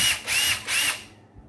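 A 14V cordless Makita screwdriver with a brushed motor runs in two short high-pitched whirring bursts, then winds down to quiet. The sound is close and loud, with no talking.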